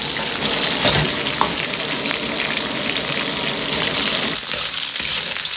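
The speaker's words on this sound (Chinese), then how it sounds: "接着下入姜片，继续翻炒均匀，炒出姜的香味。" Duck pieces stir-fried with ginger slices in a wok: a steady loud sizzle of hot oil with occasional scraping stirs, close up and continuous.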